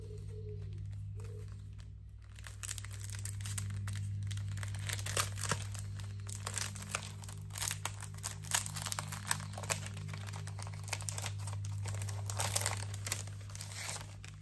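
Crinkling and rustling of a paper or plastic packet being handled and opened, steady crackles over a low hum, close by.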